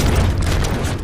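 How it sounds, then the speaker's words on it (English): A grenade explodes in a video game amid heavy gunfire, a dense, loud, continuous rumble of blasts and shots filling the whole second with no clear gaps. "I heard a grenade."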